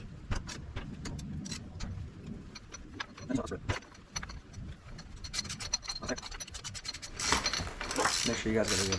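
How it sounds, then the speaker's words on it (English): A ratchet clicks in short bursts as a bike peg bolt is unscrewed, close and fairly quiet, with scraping and handling noises between bursts. "so you just unscrew it, the peg comes off, the bolt should come off with it."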